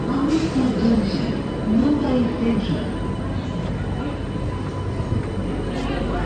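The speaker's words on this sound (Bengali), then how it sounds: "এখান দিয়ে একটা ট্রেন যাচ্ছে" A long-distance train running from New Delhi to Patna passes close by, a loud continuous rumble of wheels on rails, with voices speaking over it.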